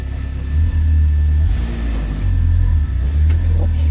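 A 2016 Oreion Reeper Sport 4x4 UTV engine runs loud and close with a deep steady rumble that dips and rises as gears are shifted.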